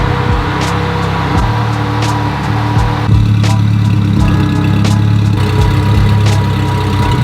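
A Honda NSX fitted with oversized AI 2200 fuel injectors idles roughly and loudly up close, its low engine drone uneven with periodic lumpy surges and pops.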